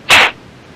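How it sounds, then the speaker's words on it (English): One short, hard, forced exhale through the nose, a sharp breathy burst lasting about a fifth of a second, close and loud, then quiet. "So it's a real hard exhale"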